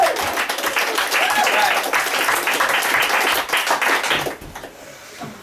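Audience applause after a spoken-word poetry performance in a bar, a dense wash of clapping that holds steady for about four seconds, then thins out and fades near the end, with some voices mixed in.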